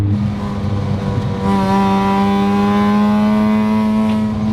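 A Mazda RX-7 FC rotary engine, stock body on coilovers, revs hard and holds a loud rising buzzy drone, close and continuous with no talk.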